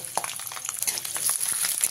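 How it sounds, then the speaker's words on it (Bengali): Ten to twelve garlic cloves dropped into hot oil in a pan that has just fried chillies, a steady close sizzle with small crackling pops throughout. "এবারে দিয়ে দিচ্ছি 10 থেকে 12 কোয়া রসুন,"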